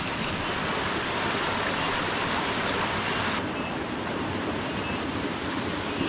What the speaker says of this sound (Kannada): ಒಳ್ಳೆ ಫೋರ್ಸ್ ಇದೆ ನೀರಿಗೆ, ಒಳ್ಳೆ ಫೋರ್ಸಲ್ಲಿ ನೀರು ಬರ್ತಿದೆ